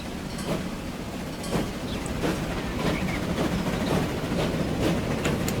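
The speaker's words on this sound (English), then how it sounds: "this train is now up and on its way" A passenger train in Transport Fever 2 rolls steadily along the track, with a continuous rumble and repeated rhythmic wheel clicks, fairly close and without talk.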